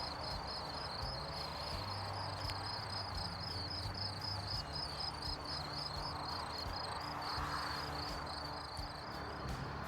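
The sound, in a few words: crickets chirping at a campsite at night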